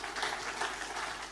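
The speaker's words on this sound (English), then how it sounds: "Let's just give them a round of applause as the candidates rise." Applause from a debate audience in Eti Osa as political candidates rise, a soft, steady wash of clapping heard briefly and at a distance.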